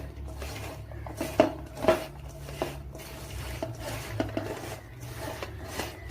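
Sliced bitter gourd being kneaded by hand with salt in a bowl, a soft wet rubbing and rasping with scattered light clinks against the dish, no talking.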